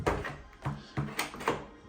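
The bolt of a digital deadbolt lock drives through a door in a series of about five rhythmic mechanical whirring clunks, close and fairly loud.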